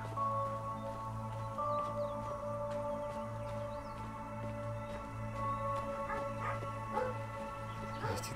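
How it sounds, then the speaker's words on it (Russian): Dogs bark in a video game, a few faint yips and barks surfacing mostly near the end beneath sustained droning music tones. "Эти долбанные собаки."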